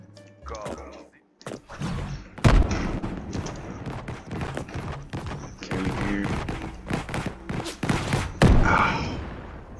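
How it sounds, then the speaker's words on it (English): A grenade explodes in a first-person shooter match, landing as a loud, close boom amid bursts of gunfire and thuds, with a second heavy blast near the end while a player talks throughout. "That was a close grenade."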